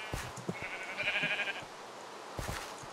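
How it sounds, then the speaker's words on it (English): A sheep in a video game gives one drawn-out bleat, moderately loud against soft background noise, with a few brief clicks and thumps around it. "I see sheep."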